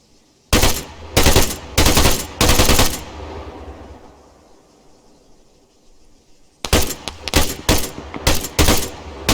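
Arma 3 gunfire: loud automatic bursts ring out in quick clusters, then a lull of fading echo and low ambience, before a second volley of sharp rapid shots.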